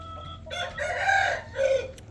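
Domestic chickens, with a rooster crowing loudly and close in two bursts over the faint low murmur of hens.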